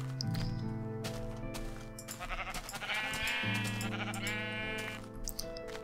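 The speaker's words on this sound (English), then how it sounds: "Let's kill these sheep." Several sheep in the game Minecraft bleat in a series of wavering, nasal calls, some overlapping, over a sustained low musical drone, with sharp clicks and hits mixed in.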